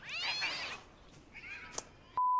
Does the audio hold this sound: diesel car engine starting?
no